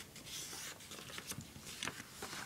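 Paper folded by hand while making an origami necktie heart: soft, close rustling and crisp scraping of the sheet, with a few brief creases pressed down, quiet and with no voices.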